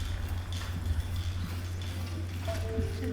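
Horse hooves clip-clop steadily on a hard surface in a scene from the film Django Unchained, with a low constant hum underneath and no talking.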